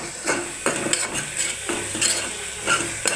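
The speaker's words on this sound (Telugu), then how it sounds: "ఇలా వేయించుకోవాలి మంచిగా" Sprouts curry being stirred and fried in a pan with turmeric: steady sizzling under repeated scraping strokes of a spoon against the pan, close and moderately loud, with no voices.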